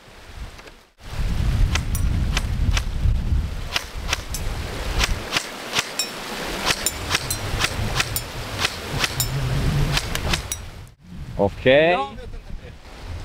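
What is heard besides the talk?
wind blowing outdoors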